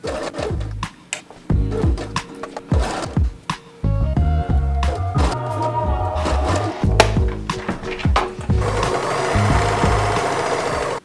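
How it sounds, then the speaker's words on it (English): An overlock serger stitches a dress skirt in a home sewing session, its rapid motor bursts starting and stopping in short runs, loud and close, with no talking. "I sewed a bit of the skirt into the overlock."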